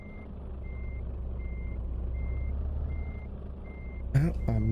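In Euro Truck Simulator 2, a truck reverses to line its fifth wheel up with a trailer kingpin, giving a steady engine rumble under a regular series of evenly spaced reversing beeps, then a short, sharp air hiss near the end.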